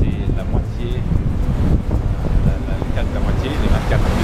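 Strong wind of about 23 knots on a racing sailboat during an ocean race, a loud gusty rush and buffeting against the microphone with water sloshing and hull noise.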